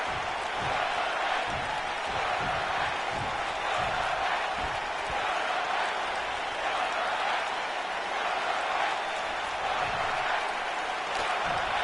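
Video game wrestling crowd from a WWE Universe Mode tables, ladders and chairs match, a steady dense roar of chanting and applause filling the arena evenly throughout, with faint rhythmic claps underneath.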